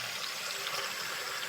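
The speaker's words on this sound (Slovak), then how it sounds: "Dáte ho do umývadla. Naberete tam studenú vodu." Water from a tap runs steadily into a kitchen sink as a pot is filled, a close, even hiss and splash with no talk over it.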